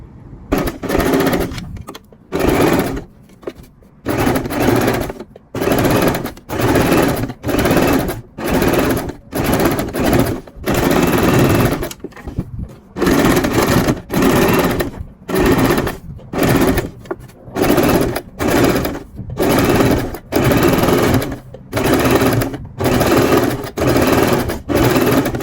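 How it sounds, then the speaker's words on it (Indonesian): A sewing machine stitching a trouser waistband strip runs in repeated loud, close bursts of steady whirring, each lasting about a second or two, with short silent pauses between them. "Nah, kita jahit seperti ini."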